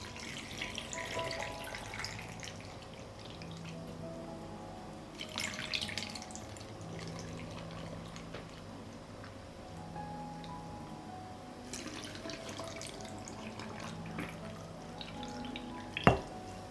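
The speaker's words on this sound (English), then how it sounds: "I pour water into the jars to cover the tomatoes." Water poured into glass jars of fresh tomatoes, a quiet, continuous trickle and splash with faint drips and a sharp clink near the end, no voices.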